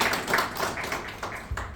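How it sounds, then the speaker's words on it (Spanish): An audience at a book event applauds author Ignacio Gimeno, a short burst of close clapping with distinct individual claps standing out. "Un gran aplauso para don Ignacio Gimeno."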